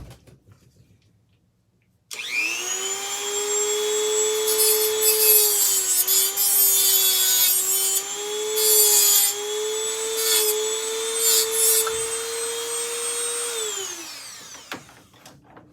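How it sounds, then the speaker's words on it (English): A Dremel rotary tool grinds into a stripped screw slot on a ceiling fan being scrapped, a loud sustained high whine running about twelve seconds before spinning down, with no talking. "taking the Dremel, trying to make it wider here so I can fit a flathead in it"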